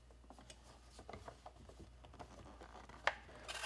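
A 10 millimeter socket wrench ratcheting the top screw of a Tesla Model S mirror back in, a quiet, close series of small clicks and mechanical ticks, with no voices.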